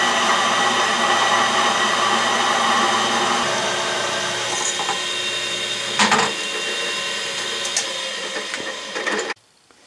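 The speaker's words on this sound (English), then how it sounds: "This is what you call a sensitive drill." A sensitive drill press bores a quarter-inch hole through metal while building a carriage stop for an Atlas lathe. It gives a steady, loud motor whine and cutting hiss that stop abruptly near the end.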